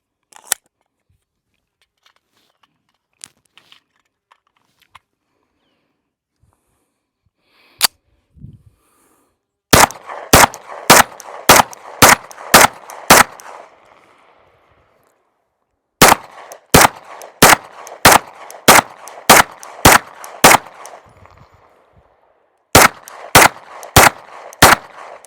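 A Stealth Arms Platypus Glock-frame pistol fires through a magazine: sharp, loud individual shots in quick steady strings with brief pauses between groups, preceded by a few faint handling clicks.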